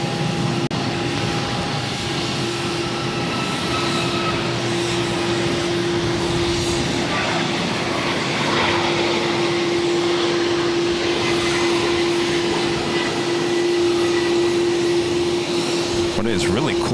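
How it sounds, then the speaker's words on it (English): An Aer Lingus airliner taxis toward the international terminal at Boston Logan, its engines giving a steady, sustained whine and rumble at moderate distance with no break. "At Air Lingus, now taxiing over to the international terminal."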